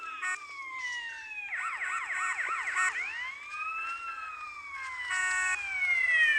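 A police car siren in a video game wails and yelps in shifting patterns, fairly clear and steady over several seconds, with no talking.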